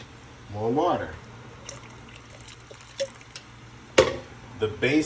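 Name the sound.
water poured into gravy pan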